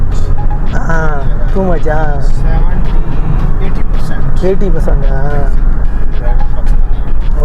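Dense Saturday night road traffic in the UAE gives a steady, loud low rumble of cars and engines throughout, with people talking close by over the continuous drone.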